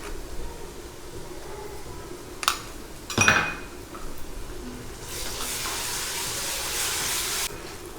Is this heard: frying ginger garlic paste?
yes